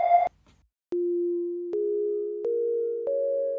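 A synthesizer pad built on a triangle wave with eight-voice unison and heavy vocal reverb plays sustained tones stepping upward, each new note entering cleanly after a brief opening chord and a short silence.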